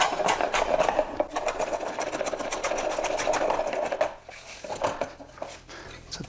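A jointer planes a live edge log with a tough knot, producing a loud, close, buzzing rattle of cutter-head chatter that runs steadily, then drops off and returns more faintly as the cut eases.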